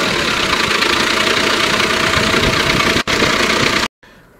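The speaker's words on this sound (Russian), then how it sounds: "Вдруг турбина подхватывает." A GAZ 3308 truck engine running with a pipe taken off the turbocharger. It gives a loud, close, steady roar with a knocking edge, dips briefly, then cuts off abruptly near the end.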